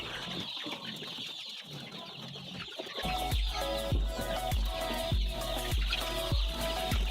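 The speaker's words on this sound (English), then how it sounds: "These are day 15 chicks." Fifteen-day-old chicks on a farm cluck and cheep in a busy, continuous chorus, with rhythmic thumping pulses in the background from about three seconds on.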